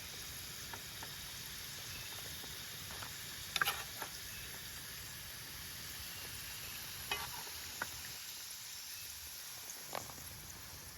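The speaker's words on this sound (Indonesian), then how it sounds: "kemudian kita tumis di atas minyak yang lumayan panas" Sliced jengkol sautéing in fairly hot oil at a bamboo-grove campsite, a steady close sizzle and hiss throughout with occasional sharper pops and stirring scrapes, no talk.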